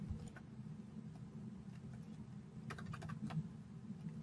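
Faint typing on a computer keyboard, with soft irregular key clicks clustering toward the end over a low background hum.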